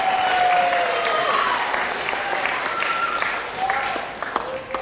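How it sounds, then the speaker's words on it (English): Audience applause for a woman on stage at a live show, loud and sustained, with a voice talking over the clapping. "Clap for her some more because she's not done here yet."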